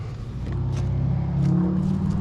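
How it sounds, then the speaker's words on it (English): A truck towing a Cub Cadet mower on a trailer rolls past nearby with a steady low engine rumble that swells as it passes, without any talking. "So a truck just drove by with a Cub Cadet on the trailer."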